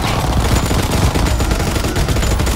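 Rapid automatic gunfire from a machine gun in the Call of Duty WWII Nazi Zombies video game, a loud continuous fusillade of shots filling the whole stretch without pause.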